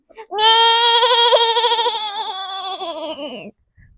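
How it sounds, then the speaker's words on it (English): A sheep gives one long, loud bleat that wavers for about three seconds, close and alone, with a faint short sound after it. "sheep."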